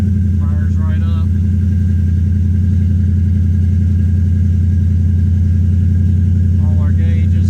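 A Coyote V8 swapped into a New Edge car idles steadily and loudly up close, a constant low rumble with faint brief squeaks near the start and end.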